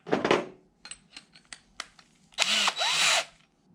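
Power drill with a 1/2 inch bit boring into wood in a shop, with short bursts and clicks followed by a loud sustained whine of the drill near the end.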